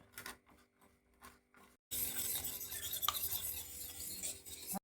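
Dough for bread being mixed by hand in a bowl, a steady close rubbing and scraping that starts abruptly after a quieter stretch of light handling.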